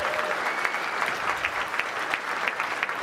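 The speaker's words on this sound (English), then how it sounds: "so give them a round of applause" Conference audience applauds at a developer event, a steady wash of many hands clapping throughout, fairly distant and even, with no voices standing out.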